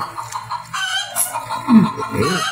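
Chickens in a henhouse cluck up close in short, uneven bursts, with a rooster-like call rising near the end.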